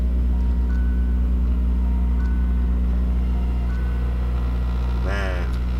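An 8th-gen Honda Civic Si with a newly fitted Hybrid Racing short shifter drives along, its engine holding a steady low, droning rumble from the cabin, with a brief faint chirp near the end.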